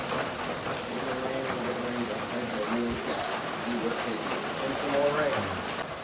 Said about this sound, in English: sun's coming up, still raining